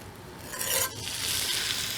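A ribeye steak sizzles in a warm cast iron pan, a close, steady frying hiss with brief stirring or shifting sounds and no talking.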